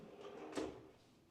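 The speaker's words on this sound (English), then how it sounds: "let's open up some of these drawers for you so you can see how much storage you get." Soft-close kitchen drawers in a Tulum-style luxury villa in Texas slide open with a quiet, smooth glide and a brief soft knock, heard faintly nearby.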